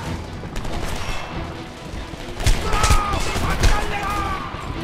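Dense gunfire in the video game Homefront, a steady barrage of overlapping shots with heavier bursts toward the end, loud and continuous under a busy game soundscape.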